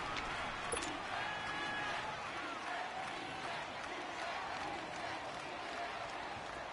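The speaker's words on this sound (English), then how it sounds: "the crowd getting into it as we come up on a big 3rd down" A stadium crowd in a Philadelphia American football video game on PS4 cheers steadily, a dense continuous roar that holds at the same level throughout with no clear talking over it.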